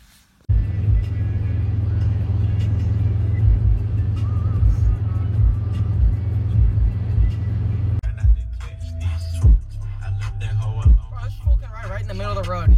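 Video game car driving: a loud, steady low engine drone that changes character partway through, then breaks into uneven revs and bumps with electronic tones on top.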